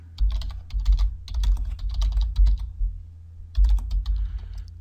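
Close, steady typing on a computer keyboard as a chart title is entered, with quick clusters of key clicks, a brief pause, then another short burst.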